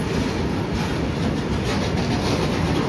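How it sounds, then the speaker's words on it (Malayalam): A coal-carrying freight train rumbles past close by on an Indian railway route, a loud continuous roar of rolling wagons with steady clickety-clack from the wheels throughout. "ഈ വരുന്നത് ഒരു ചരക്ക് ട്രെയിനാണ് കേട്ടോ"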